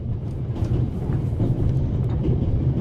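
Inside a moving train in the remastered Raven video game: a steady low rumble with rolling mechanical texture that holds at an even level throughout, with no voices.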